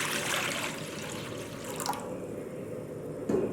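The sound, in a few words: water poured into a cooking pot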